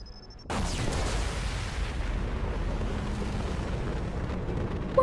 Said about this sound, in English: An explosion that close is fine.